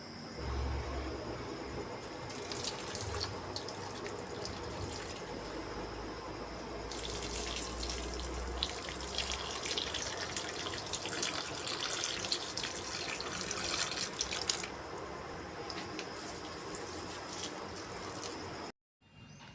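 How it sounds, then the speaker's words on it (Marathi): Water running steadily from a tap or hose while potted plants are watered at home in the morning, a continuous close splashing rush that holds for most of the stretch and then cuts off near the end. "आठवणीने ह्या रोपांना पाणी द्यावं लागतं"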